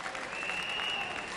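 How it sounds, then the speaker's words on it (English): An audience at the 1970 Miss World pageant breaks into steady applause, a dense, even wash of clapping that fills the short moment without pause. "it's a big round of applause for him now"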